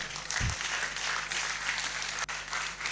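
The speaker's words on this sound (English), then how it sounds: "Please clap." An audience applauds at a public lecture, dense steady clapping that fills the room for a few seconds, with a thump near the start.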